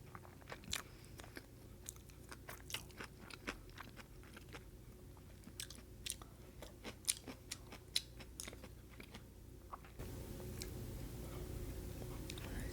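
Tuna and salmon sushi chewed close to the mic, with soft, irregular crunchy bites and wet chewing over a quiet background.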